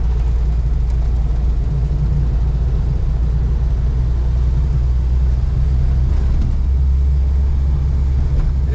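A Renault 4L driving along, heard from inside as a loud, constant low engine drone and road rumble that holds steady for the whole stretch.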